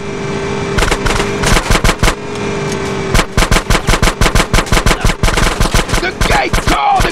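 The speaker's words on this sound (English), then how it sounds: "Shoot out the gate!" Gunfire blasts at a gate in the GTA San Andreas video game: loud, close bursts of rapid shots with brief pauses between volleys, over a steady engine-like drone.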